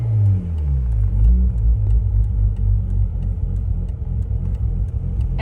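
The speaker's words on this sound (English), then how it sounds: "It sounds like it's idling better than it was." A bridgeported Mazda RX8 rotary engine idles with a loud, close, lumpy low rumble that pulses unevenly, sounding rough and choppy with a brief rise in revs near the start.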